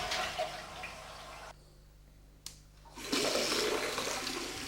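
A toilet flushes close by, a loud rushing surge of water that follows a brief quiet pause and keeps pouring steadily.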